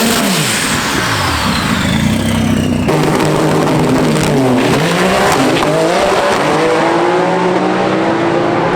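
Drag race cars tear down the strip at TX2K 2024, loud and close, with engines roaring and sweeping in pitch as they rev, plus squealing tyres, all continuous without a break.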